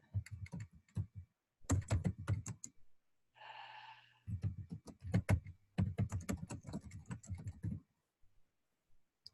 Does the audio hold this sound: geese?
no